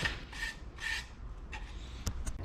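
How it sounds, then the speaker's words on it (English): Hubcaps being scuffed with a Scotch-Brite pad, repeated close rasping rubs in a slow back-and-forth rhythm, followed by a couple of sharper scrapes at the end. "take some Scotch-Brite and scuff this baby nice and good like"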